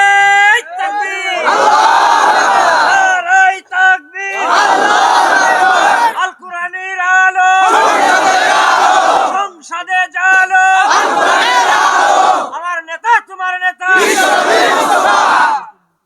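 Large crowd at an open-air Islamic waz gathering in Bogura, Bangladesh, roaring slogans together in long repeated bursts of about two seconds each, separated by brief pauses, loud and close.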